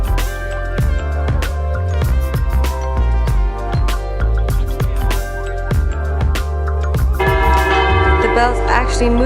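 Swinging church bell in a central Madrid square, ringing loud and close with repeated clanging strikes, each leaving a long shimmering hum that overlaps the next, growing denser and brighter toward the end.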